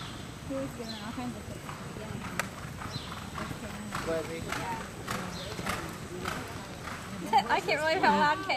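Horse hooves clip-clop steadily around a hunter show arena at an open hunter class, a loud, continuous rhythmic beat with people talking over it and a brief whinny near the end.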